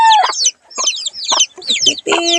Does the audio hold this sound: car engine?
no